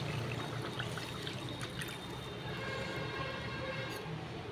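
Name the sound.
water poured into hot oil in a pan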